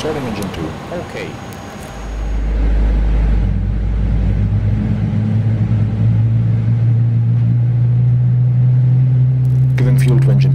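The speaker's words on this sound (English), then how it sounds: "Starting engine 2." Engine 2 of an iniBuilds A300-600R spools up in Microsoft Flight Simulator 2020, a loud low rumble building after a quieter start and then holding as a steady droning hum with a rising whine, while voices talk over it.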